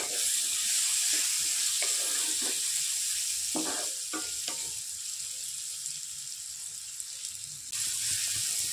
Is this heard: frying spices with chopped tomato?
yes